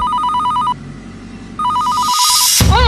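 A phone plays an electronic ringtone, a rapid warbling tone in two bursts separated by a brief pause before a sharp sound cuts it off.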